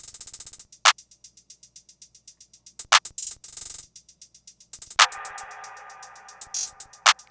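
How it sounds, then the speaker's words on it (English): A second hi-hat in a guitar and piano beat ticks out quick 16th notes alone, bright and crisp, with a few louder accented hits breaking through. "I did add a second hi-hat that's hitting with 16 notes"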